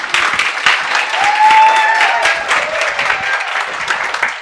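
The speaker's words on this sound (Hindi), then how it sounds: "एक बार ताली बजा दो" An audience at a live show applauds, producing a burst of dense, close clapping that swells and then tapers off, with a faint murmur beneath it.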